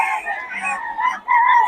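Roosters and hens from a Pampanga breeder's flock crow and cluck in a continuous, fairly close series of calls, with a brief dip before the final drawn-out crow.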